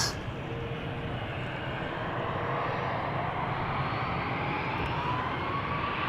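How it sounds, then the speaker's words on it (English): Embraer 190 jet departing the Polderbaan at Amsterdam Schiphol, bound for Stavanger: a steady, moderately faint engine roar with a thin rising whine, distant and continuous throughout, no voices. "Embraer 190 going to Stavanger."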